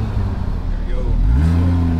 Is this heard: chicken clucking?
no